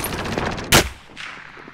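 Bursts of rapid automatic gunfire in a shooter video game, a dense rattling volley followed by one loud sharp blast, then fainter shots trailing off.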